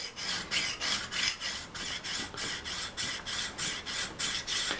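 Steady back-and-forth rasping of a 1095 high carbon steel hunting knife blade being polished at its grind angle, about ten even strokes per few seconds, close and continuous with no talk.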